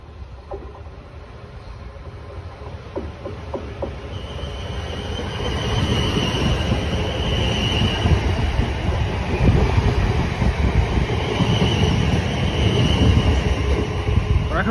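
A passenger train pulls away on its service to Lymington, a low rumbling roar that swells steadily louder over about fifteen seconds, with faint rail clatter and a higher whine on top, heard alone without talk.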